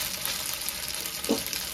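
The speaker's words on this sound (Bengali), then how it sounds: "এইভাবে তেলের মধ্যে নাড়তে নাড়তেই কিন্তু চিকেনগুলো সেদ্ধও হয়ে যাবে," Chicken pieces for Kung Pao chicken stir-frying in oil: a brief, fairly soft, even sizzle with a small clatter of stirring partway through, no voices.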